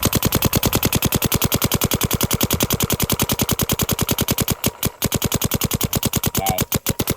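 A Planet Eclipse Geo R5 paintball marker fires in a long, rapid, evenly spaced burst of sharp pops, loud and close, with a couple of brief pauses near the end.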